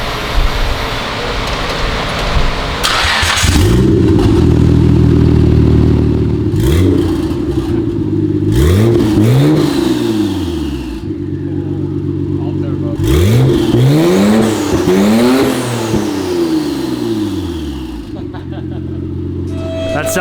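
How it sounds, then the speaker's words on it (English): Nissan R32 GTR engine started and revved with only the turbo fitted and no exhaust, loud rough idle with several sharp revving bursts and falling whooshes, raw and close throughout. "I really want to hear how the car sounds with pure just turbo."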